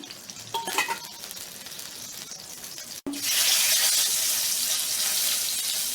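Cooking oil is poured into a hot kadai with a sudden loud sizzle about halfway through, a broad steady hiss that keeps going after a brief clatter.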